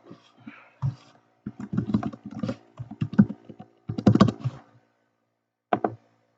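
Someone types a comment on a computer keyboard, a close run of key clicks in uneven bursts with short pauses, ending in a final isolated tap.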